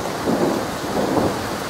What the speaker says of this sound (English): I mean, is the thunderstorm even gonna stop?